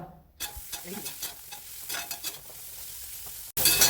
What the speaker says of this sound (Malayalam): രണ്ട് കപ്പ് ഇടിച്ചക്ക കഷ്ണങ്ങളാണ് ഇതിലിട്ടിട്ട് ഒന്ന് ഫ്രൈ ചെയ്തെടുക്കുന്നത്